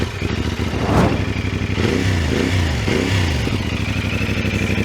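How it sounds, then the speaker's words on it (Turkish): A CFMoto 450SR motorcycle engine runs steadily at idle, then is blipped through several quick revs that rise and fall in pitch, loud and close, with no talking. "Motor 250'ye göre gerçekten çok iyi. inanılmaz bir torku var. Hızlanması falan gayet güzel. Sesi özellikle benim en çok beğendiğim sesi."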